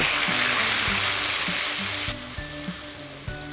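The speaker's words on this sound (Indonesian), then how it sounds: "Kita sudah bisa menumis yaitu bumbu yang sudah kita haluskan tadi." Ground chili spice paste for egg balado sizzling and frying in a pan over medium heat, a steady close crackle with light stirring scrapes, no talk.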